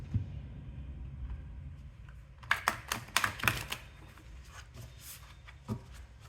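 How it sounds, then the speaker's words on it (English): Tarot cards being shuffled in a quiet room during a Scorpio reading, giving a quick burst of crisp riffling clicks and flutters for about a second, then a lone soft snap. "One last shuffle."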